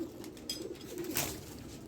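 A pigeon of the Rampuri breed coos softly in low murmurs, with a few sharper bird sounds and flutters mixed in, fairly close.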